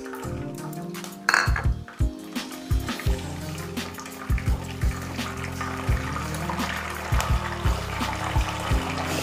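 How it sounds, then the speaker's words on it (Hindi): Peas tipped into a cooking pot, giving a run of distinct clinks and soft rattles against the metal with scraping in between, close and fairly loud, and no voices. "अभी मटर को डालते हैं"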